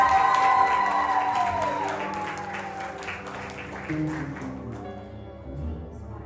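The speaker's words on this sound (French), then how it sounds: "Applaudissez." Church congregation applauding after a Bible verse recitation challenge, a dense wash of clapping that starts loud over fading music and thins out toward the end, with no voices on top.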